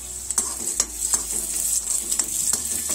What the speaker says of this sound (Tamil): கிஸ்மிஸ் பழம் புஃப்னு வர்ற அளவுக்கு வறுத்துக்கலாம்